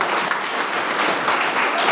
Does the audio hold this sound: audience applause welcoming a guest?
yes